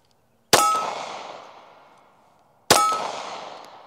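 A Glock pistol fires two loud, sharp shots about two seconds apart, each followed by a long metallic ringing decay.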